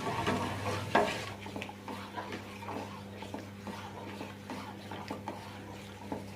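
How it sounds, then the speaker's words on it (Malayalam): Thickening tapioca papad mixture stirred continuously in a pan, a steady run of soft scraping and sloshing strokes, close by, over a low constant hum. "തുടരെ ഇളക്കിക്കൊണ്ട് തന്നെ ഇരിക്കണം,"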